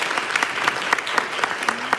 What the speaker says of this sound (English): Round of applause for the candidates out there.